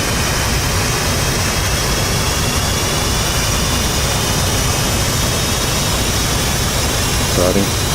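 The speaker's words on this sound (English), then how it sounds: "I'm going to flip over and start the other engine." F/A-18 Hornet jet engine in a flight simulator game, a loud, steady broadband roar that holds evenly throughout with no break or change.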